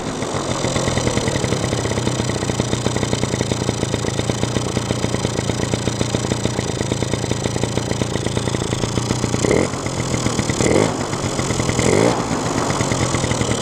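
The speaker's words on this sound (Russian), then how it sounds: "Вот сейчас он на холостом ходу работает как должен." A two-stroke engine, running properly after a lean-mixture problem, idles steadily with a close, even rapid putter and a few brief rises in revs near the end; no talk.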